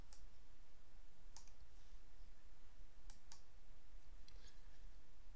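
Several sharp, faint clicks of a computer mouse, a single click then a quick pair and one more, spaced a second or so apart over a steady low hiss.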